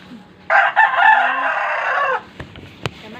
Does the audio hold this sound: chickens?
yes